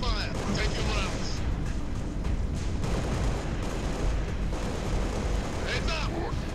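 Heavy gunfire and explosions in the video game Halo Reach form a dense, continuous stream of bursts and booms, steady and fairly loud throughout.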